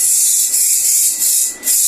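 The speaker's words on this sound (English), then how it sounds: "So I'm going to apply my holding spray to make the braids very firm after applying the mousse." Holding spray hisses from an aerosol can onto a braided wig in steady close bursts, with brief dips between sprays and no talk.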